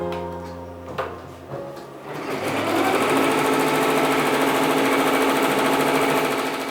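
An embroidery machine stitching a pattern onto fabric in a sewing workshop, starting after a few clicks and a short hum, then running steadily with rapid, loud mechanical needle chatter close by, with no talking.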